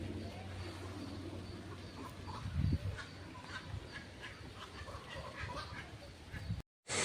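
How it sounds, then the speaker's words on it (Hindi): Ducks quack at Bannerghatta zoo in Bangalore. The calls come in scattered bursts over a busy, noisy outdoor background, with one louder burst near the middle. "हंस बत्तक"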